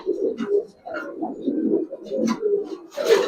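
A pair of Giribaz pigeons at a home loft coo steadily in soft, low rolling calls, close by and overlapping, with a brief brighter rustle near the end.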